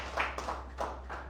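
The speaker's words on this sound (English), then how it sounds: "I would love for us to just give a round of applause for our parents" Sparse audience clapping at a talk, a few soft, uneven claps over a low steady hum.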